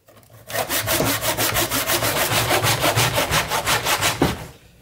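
Hand saw cutting through a block of epoxy-stabilized Australian wood, with fast rhythmic back-and-forth strokes rasping loud and close, about a dozen or more even strokes, then one final heavier stroke before it stops.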